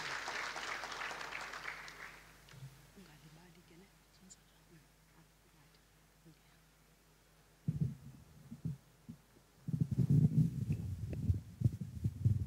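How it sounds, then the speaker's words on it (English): Audience applause at a MICT SETA live-streamed session, first a burst of clapping that fades into a quiet hum, then renewed, louder bursts of noise and movement near the end. "Can we give her a round of applause?"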